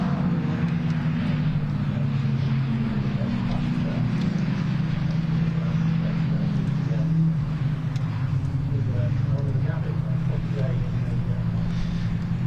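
Caterham race cars lapping Thruxton circuit, a steady loud engine drone rolling on without a break through the whole stretch, with indistinct voices mixed faintly underneath.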